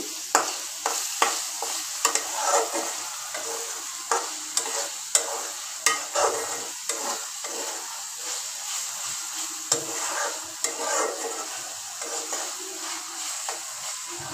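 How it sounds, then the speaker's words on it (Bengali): Dried fish stir-fried with spices in a pan produces a continuous, close sizzle with regular scraping and clacking of a spatula at a brisk, uneven rhythm. "শুটকিটা কষানো হয়ে গেছে"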